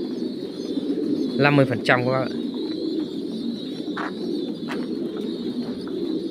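Pigeons coo softly in a dim, covered home aviary, low murmuring calls over a steady background hum, while someone speaks briefly near the start.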